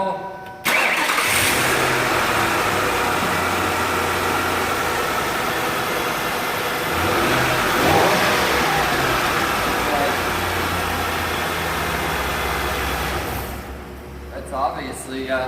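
A car engine cranks and catches after its ignition coils were replaced, then runs steadily at idle for over ten seconds, loud and close, with a brief rev near the end and someone talking over it.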